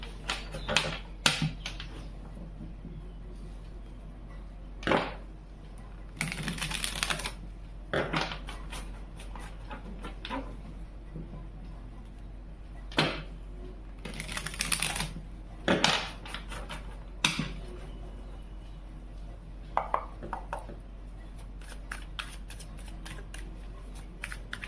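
A deck of tarot cards is shuffled by hand. Crisp riffling and slapping bursts come close by at irregular intervals over a steady low hum, with no talking.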